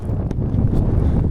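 Blizzard wind buffets the microphone in a low, rumbling roar that gusts unevenly over a short stretch, loud and close with no other sounds.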